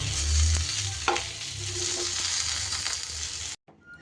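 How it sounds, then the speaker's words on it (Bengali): Pointed gourd (potol) frying in a covered pan, a steady close sizzle with a brief stir or lid clink partway through, cutting off abruptly near the end. "পটলটা আরও একটু সময় ধরে আমি ঢাকা দিয়ে দিয়ে ভেজে নেব"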